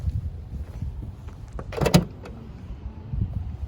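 The trunk of a Tesla Model S P100D opens with a short electric motor whir and a mechanical latch release, rising to a brief peak near the middle. Low, quiet background rumble fills the moments before and after.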